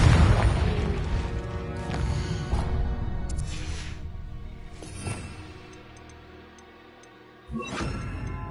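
Confringo spell blasts in a Harry Potter wizard video game go off as a series of booming bursts with whooshing tails, loud at first and then spaced out over steady background game sound.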